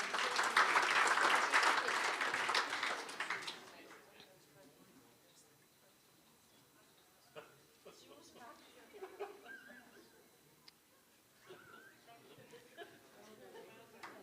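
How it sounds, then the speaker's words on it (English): An audience at a running club's AGM and awards evening gives a loud burst of clapping for about four seconds, then it fades to scattered claps, light murmuring and soft movement in the room. "Congratulations, another round of applause."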